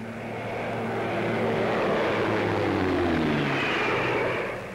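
A four-engined propeller airliner carrying up to 53 passengers flies past at the 1952 Farnborough Air Show with three of its engines stopped, a steady loud drone swelling in and fading slightly, with no talk.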